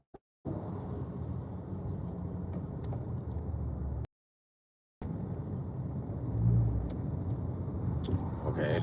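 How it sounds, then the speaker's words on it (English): Steady engine and road rumble from a car in a Friday-afternoon traffic jam on the drive to Tyler, Texas, continuous and close, broken by a second of silence midway before the low drone resumes. "Okay, it is a traffic jam."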